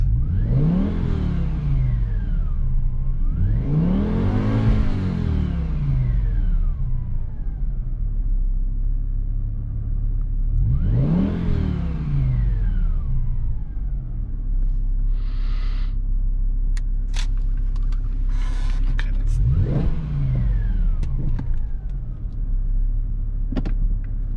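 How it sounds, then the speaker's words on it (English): A 2006 BMW M5 E60's S85 V10 engine, with new ignition coils and plugs, revs hard several times, each rev climbing and falling in a loud sweeping roar over a steady idle rumble. "Let's give it a few revs."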